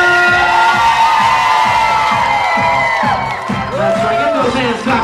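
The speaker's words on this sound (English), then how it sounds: "please, tonight make some noise for Larry and Samantha." A loud crowd at a bat mitzvah cheers and whoops steadily, with a voice calling out over the noise.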